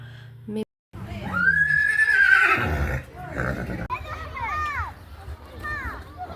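A donkey on an Algerian farm gives a long, loud bray with wheezing rises and falls, followed by shorter calls, close by, as children and other people talk and play around it.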